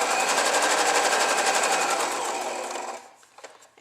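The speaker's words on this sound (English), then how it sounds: "I'm making it appear that I sewed on all sides of the card by sewing on each piece" A sewing machine stitches through a paper baby shower card, running in a loud, rapid, even chatter for nearly three seconds before slowing and stopping, with a few light clicks after.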